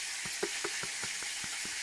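Chicken frying in a pan on a home stove gives a steady hiss, punctuated by regular light clicks of stirring, with no voices.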